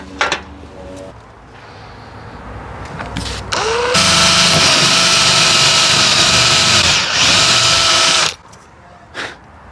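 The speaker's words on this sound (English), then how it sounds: "Let's bore that through the top there." Power drill boring a hole for a coach bolt through the top of a garage door, a loud continuous whine lasting several seconds after brief handling noises, then stopping abruptly.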